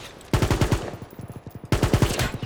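A G36 rifle in the WW3 shooter fires in two rapid automatic bursts, each a close, punchy string of shots, with a short pause and a few scattered rounds between them.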